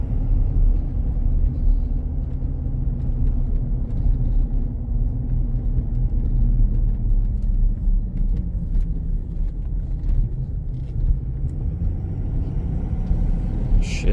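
Cabin view of a lifted 2018 Ford F-250 Super Duty Lariat pickup on the road, shifting gears smoothly: constant heavy low rumble of engine and tires, steady and close, with a faint clunk near the end and no speech.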